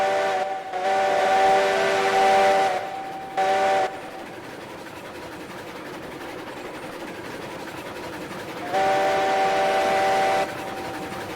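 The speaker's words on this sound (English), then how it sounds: "This is like real life. Massive trains passing by." Massive trains roll past in the railroad game Railroads Online, a steady low rumble of rail cars running underneath as a loud steam whistle blows in long blasts, twice early, once briefly, and again near the end.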